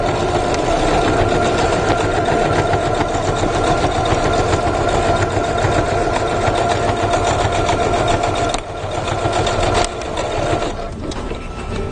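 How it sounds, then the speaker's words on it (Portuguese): A sewing machine stitches the sides of a fabric bag, running in one long, loud, even whir close by, dipping briefly near the end before carrying on. "Então aqui primeiro eu costuro essas duas laterais."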